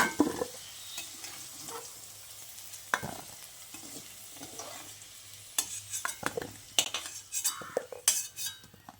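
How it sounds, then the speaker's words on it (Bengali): Metal utensils scrape and clink against a pan and bowl, with a soft sizzle of frying in the background and no talking. "এবার এই ভাজা আলুটাকে আমি একটা পাত্রে তুলে নিচ্ছি"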